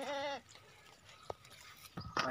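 A goat bleats loudly and close at a livestock market in Pakistan, one wavering cry at the start followed by scattered clicks, rustles and background bustle.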